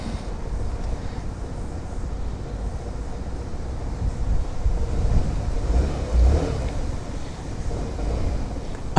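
A Sym Jet 4 RX 125 scooter engine revving and pulling away while riding, a steady droning motor with wind noise and a couple of louder surges, fairly close.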